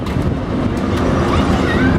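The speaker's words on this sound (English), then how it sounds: "It's getting windy." Steady wind rushing and buffeting against the microphone, a continuous low roar with no pauses or voices.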